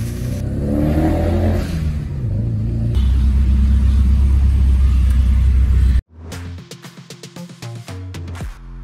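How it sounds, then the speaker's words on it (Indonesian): A Nissan Silvia S14 with a turbocharged SR20DET engine, first a low steady rumbling idle with rising revs, then a cut to a series of sharp, close blips and revs. "Dan kita bakal idle mobil ini, serta kita bakal cobain juga ngelakuin idle tuning."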